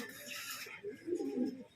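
A racing pigeon gives soft, low cooing notes on arriving home during a derby, faint and close, following a hissy stretch of background noise.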